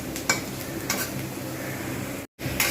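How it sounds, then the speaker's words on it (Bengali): Onions sizzle steadily in a hot pan, with occasional clinks and scrapes of a utensil against the metal nearby. "পেঁয়াজটা এদিকে ভাজা হচ্ছে"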